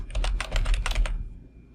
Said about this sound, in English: So if I begin typing on the search bar, let's type in Toronto